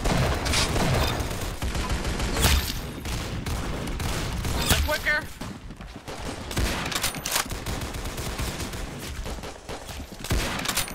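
Dense, continuous weapon fire from the Arsenal video game, a loud crackling barrage with booms and scattered bursts running the whole time under busy game noise.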